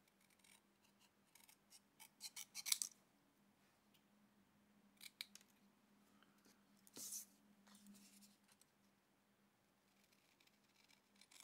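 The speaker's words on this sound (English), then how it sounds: "So I'm just going to snip round it." Paper snips cutting around a stamped card in a quiet craft setting, giving a few scattered crisp snips with soft paper rustling between them, close and fairly faint.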